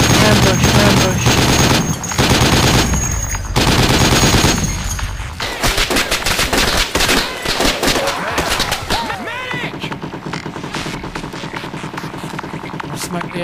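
Dense bursts of automatic gunfire in the tactical military shooter Project Reality, loud and close, with rapid volleys and overlapping shots continuing throughout and brief voices mixed in.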